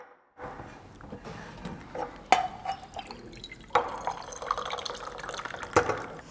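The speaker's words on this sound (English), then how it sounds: "So as I'm pouring water into this glass, the water is gaining height." Water pours into a drinking glass in a quiet indoor setting, with a soft continuous trickle broken by a few sharper splashy drips and clinks as the level rises; no voices.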